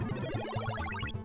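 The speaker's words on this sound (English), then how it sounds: "This is the sound Shinobi makes when he does the big jump." Big-jump sound effect from the Shinobi video game: a short, rapid rising electronic arpeggio over a bouncing low synth pattern, played back clearly for about a second.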